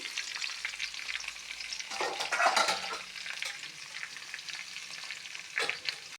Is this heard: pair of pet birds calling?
no